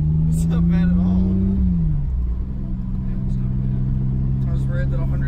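A Toyota MK2 Supra with about 160 horsepower pulls away under acceleration, its engine note sustained and rising before easing off and settling into a steady drone, with people talking over it throughout.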